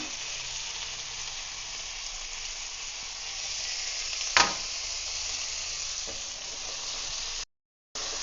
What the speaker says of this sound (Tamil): நம்ம இன்னும் கொஞ்சம் ஆயில் விட்டுக்கிட்டோம். ஸோ இது நல்லா வதங்கட்டும்.